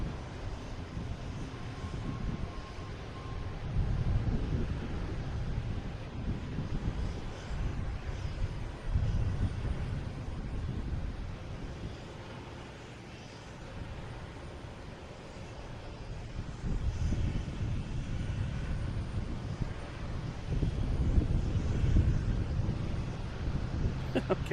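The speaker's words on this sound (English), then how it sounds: "Next to take off is Iberia, heading to Madrid," An Iberia A321neo airliner bound for Madrid takes off at Boston Logan, its engines a distant, steady low roar that swells and fades over about 25 seconds, with wind buffeting the microphone.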